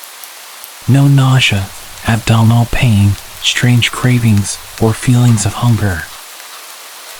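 Steady rain falls as a soft, constant hiss beneath a person narrating a story close up, continuing through the pauses in speech.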